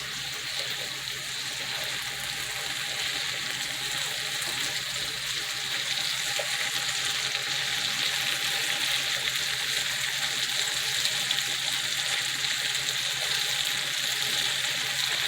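Green beans cook in a pan on a stovetop, giving a steady even hiss and bubbling that holds at a constant level throughout with no voices.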